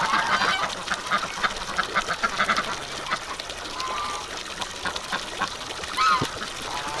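Ducks in a coop honking and quacking in scattered bursts, close and fairly busy against a faint background hum.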